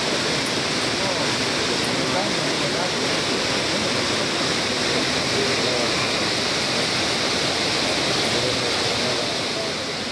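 A constant roar of falling water at Iguazu Falls, broad and rushing, filling the whole stretch without pause.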